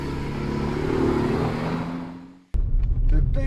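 A BMW M3 E92 with a 4-litre V8 runs with a loud, rising rumble that fades out, then cuts to a burst of sharp, close revving.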